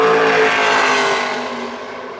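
A NASCAR Xfinity Series race car crosses the line during a qualifying lap at Phoenix, its loud engine roaring close by and then fading slightly as it pulls away, with no talk.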